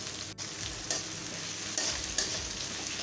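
Two onions dropped into a pan of frying spices for a spicy fish munda masala, a quiet steady sizzle with a few soft stirring scrapes and brief bumps.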